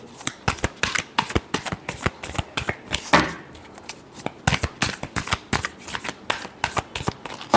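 Tarot cards shuffled by hand in quick, crisp riffling bursts, a steady run of sharp papery flutters and taps recorded close up.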